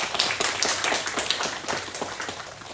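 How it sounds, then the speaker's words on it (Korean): A church congregation claps in comfort for a bereaved family during a Sunday service, a brisk run of distinct hand claps that starts loud and tapers slightly toward the end, with no talking over it. "힘내시라고 위로의 박수 한번 하시면 좋겠습니다"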